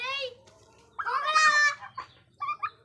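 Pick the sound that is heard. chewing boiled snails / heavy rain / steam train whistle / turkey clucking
turkey clucking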